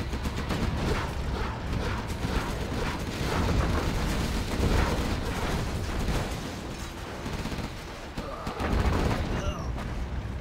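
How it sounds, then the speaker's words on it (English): Continuous rumbling artillery fire and explosions in the Command & Conquer Generals video game, dense and layered throughout, with a caster's voice talking over the barrage. "Artillery coming in."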